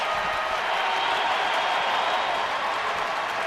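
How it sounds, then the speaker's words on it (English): A stadium crowd of just under 25,000 at a Dodgers at Diamondbacks baseball game in Arizona roars steadily as fans rise to their feet, a dense, sustained wash of cheering and clapping with no break. "Wow, listen to this crowd. They're getting on their feet."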